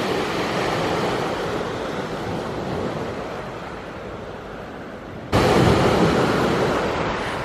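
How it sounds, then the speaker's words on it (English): Ocean surf roars steadily, a broad continuous wash of breaking waves that swells louder near the end, with no voices. "You guys know I love the sound of the waves."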